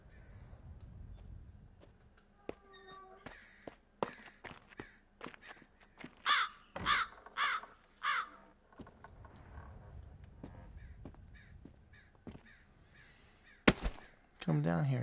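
Crows caw in the Walking Dead: Saints and Sinners VR game, a run of four distinct calls in the middle of the stretch, heard over quiet game ambience with scattered clicks and thumps.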